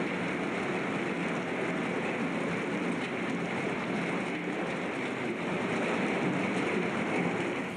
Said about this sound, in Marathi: पहिल्याच जोरदार पावसामुळे अनेक भागात दाणादाण उडाली